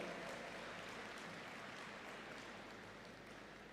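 Forum delegates applaud to welcome a guest at the inaugural session of the World Forum of Accountants at India Expo Centre, a dense, steady patter of clapping that sounds distant and faint, fading slightly.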